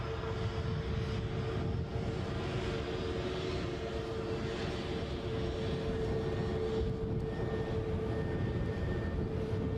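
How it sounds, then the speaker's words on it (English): An easyJet airliner passing by near Edinburgh airport, a steady loud broadband jet roar with a sustained engine hum that holds throughout, heard alone without talk. "It's an easyJet and it's going somewhere."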